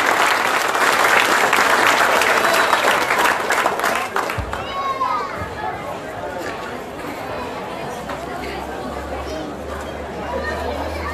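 Congregation at a Folia de Reis feast in a Brazilian parish claps loudly for about four seconds, then the applause thins into crowd chatter and voices.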